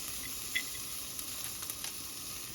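Ginger goes into a hot pan while cooking adobong chicken feet and sizzles in a steady, fairly quiet hiss, with a few light clicks and spatters.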